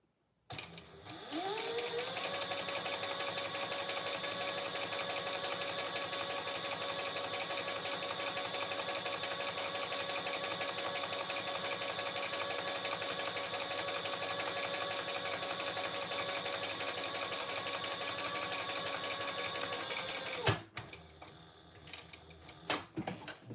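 A sewing machine stitches a garment from a commercial pattern, running at a steady, even hum and clatter for about twenty seconds before stopping abruptly, followed by a few quiet handling sounds.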